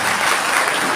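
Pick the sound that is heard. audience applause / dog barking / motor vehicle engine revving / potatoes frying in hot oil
audience applause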